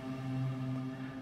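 Nylon-string guitar sent fully wet through a Valhalla Shimmer reverb, heard as a soft, sustained wash of layered echoing tones with steady drones and a gentle shimmer, no dry pluck audible, brief and moderately quiet.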